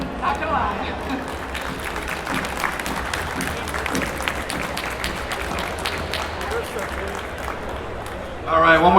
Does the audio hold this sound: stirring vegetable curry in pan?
no